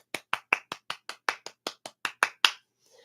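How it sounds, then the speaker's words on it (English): A room full of people claps in unison at a line dance, about a dozen sharp, evenly spaced claps ringing out loud and close before stopping abruptly. "Now crisscross, everybody clap your hands."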